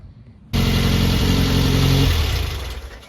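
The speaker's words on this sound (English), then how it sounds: "The motor sounds really good." A Brubaker Box car engine, still smoking a little, bursts into a loud, close, steady roar after a short quiet lead-in, then eases slightly toward the end.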